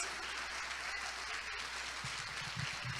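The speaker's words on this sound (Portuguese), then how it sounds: "Aplaude o nome de Jesus." Church congregation clapping in worship, a steady dense wash of applause filling the room throughout, with no one speaking over it.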